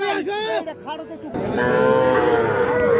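Bull calves at a Bangladeshi village cattle market give loud, drawn-out moos one after another, near and strong, over crowd chatter in the background.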